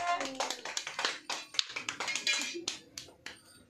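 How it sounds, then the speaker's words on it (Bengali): Several people at a home Saraswati puja clap hands in a quick, uneven burst of claps lasting a few seconds, close by, with some speech mixed in. "সবাই হাততালি দাও"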